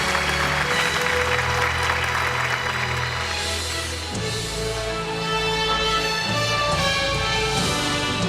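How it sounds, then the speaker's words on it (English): A large awards-ceremony audience claps continuously for several seconds, a dense and loud wash of applause under a steady musical backing, with no voices on top. "Please give them a warm round of applause"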